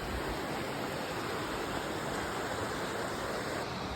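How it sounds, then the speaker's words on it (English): Burney Falls waterfall, with water rushing through volcanic rock, gives a steady, dense, broadband roar that holds even and unbroken throughout, with no voices. "That's the waterfall water right there."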